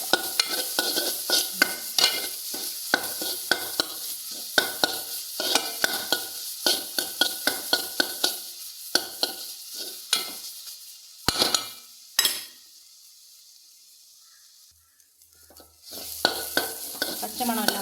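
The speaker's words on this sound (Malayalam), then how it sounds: "ഇളക്കി കൊടുക്കാം." Grated coconut mixture frying in a pan for a green gram thoran, stirred with a spoon in steady repeated scrapes over a continuous sizzle, close and fairly loud, with a brief pause near the end.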